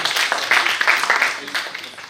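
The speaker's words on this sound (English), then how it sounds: "A huge round of applause once again" An audience applauds with a dense, steady patter of clapping that stays fairly loud throughout, without any clear voices over it.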